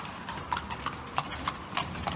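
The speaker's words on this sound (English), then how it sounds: "there's lots of these horses coming around in carriages, as you can hear, coming along" Carriage horse hooves clip-clop along a street, about eight sharp, evenly spaced strikes at a moderate walking pace, fairly close over quiet background ambience.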